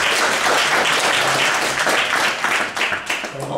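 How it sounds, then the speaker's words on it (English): Audience applause after a presentation at an economics panel on trade policy, loud, close, steady clapping that tapers slightly in the final second. "Only non-economists get applause."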